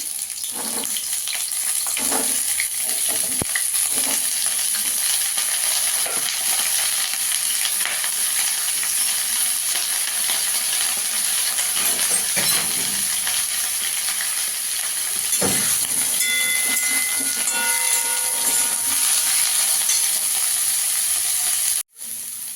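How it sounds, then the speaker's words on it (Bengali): Cauliflower fries in oil in a wok, a steady dense sizzle and hiss running throughout with occasional stirring scrapes, close and loud, with no talking. "এখানে আমি কড়াইতে একটু তেল দিয়ে দিয়েছি। আমি আগে ফুলকপিটাকে একটু ভেজে নেব।"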